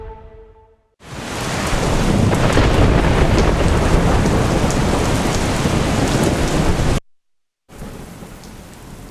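Heavy monsoon rain pours down in Amreli and Barwala, Gujarat, in a loud, dense roar with rumbling thunder underneath, broken by a brief pause before resuming.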